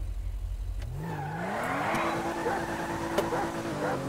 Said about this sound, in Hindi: इतना बढ़िया साउंड निकल रहा है गाड़ी का